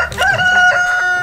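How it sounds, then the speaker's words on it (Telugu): A rooster crows once, loud and close, a single drawn-out cock-a-doodle-doo in a Telangana village around the Sankranti festival season. "నా బంగారు కోడి పుందురా"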